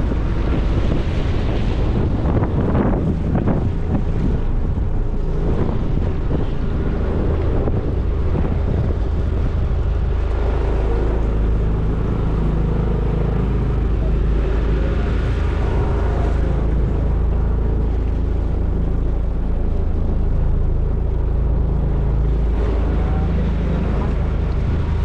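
Strong wind and rough waves around a trapping spot on the water, with a fast current: a constant loud low roar of gusting wind buffeting the microphone, with surging water and brief voices mixed in.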